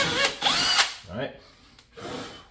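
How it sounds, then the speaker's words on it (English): A power drill bores into the rub rail of a Yamaha SUV Waverunner, giving short whining bursts of motor revving up and down, close and fairly loud, separated by brief pauses. "Don't feel like you have to go on max forward speed like me either on that drill."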